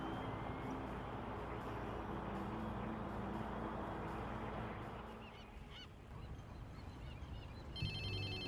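A phone rings in the Watch Dogs 2 video game, with a bright electronic ringtone bursting in near the end over a busy wash of ambient game noise and music.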